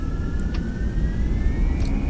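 Airbus A320 jet engines spool up in the Fenix flight simulator, a steady close roar with a thin whine that climbs slowly in pitch throughout.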